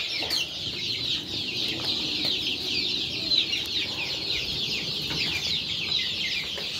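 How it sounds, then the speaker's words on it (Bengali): A flock of desi chickens clucks steadily in a backyard poultry coop, many overlapping birds chattering continuously at moderate distance, with no talk. "দেশি মুরগি"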